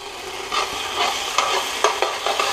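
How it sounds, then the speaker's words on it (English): Garlic is stirred around a hot pan for a crockpot chicken dish in barbecue peanut butter sauce, with a steady sizzle under repeated scraping strokes of a utensil, close and fairly loud, with no talking. "So we just stir that around there"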